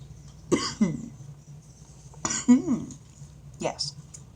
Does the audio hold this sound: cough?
yes